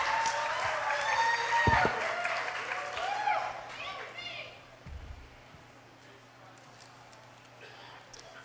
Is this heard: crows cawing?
no